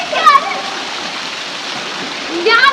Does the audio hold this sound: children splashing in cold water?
yes